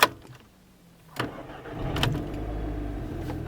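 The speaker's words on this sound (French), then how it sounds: "Et ben maintenant écoutez, on va démarrer la voiture." A car engine cranks over and catches after a quiet moment, then settles into a steady, low idle that carries on alone to the end.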